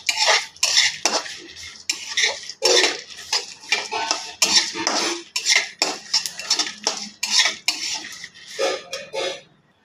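A utensil scrapes and stirs sesame seeds with curry leaves in a pan while making a brinjal masala fry, in rapid repeated metallic strokes, close and fairly loud with no talk.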